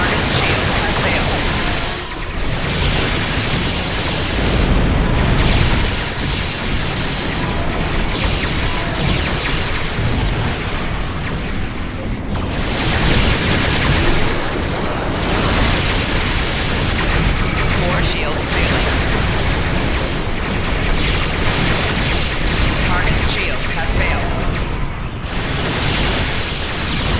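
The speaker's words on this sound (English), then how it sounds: "Ship is under attack." A starship in Star Trek Online takes fire in a dense, continuous barrage of loud noisy blasts, rumbles and impacts, with brief lulls, while voices speak throughout.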